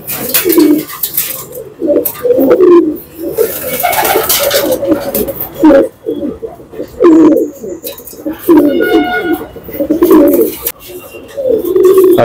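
Pigeons coo repeatedly at close range in soft, rolling, throaty phrases, with some background noise between the calls.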